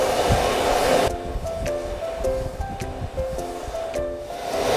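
A hair dryer drying a puppy blows loudly for about a second, cuts off to leave soft background music, then switches back on near the end.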